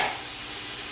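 Celery cooking in a pan alongside partly frozen ingredients, a soft steady broadband hiss of frying with a brief stir at the start, close and fairly quiet, with no talking.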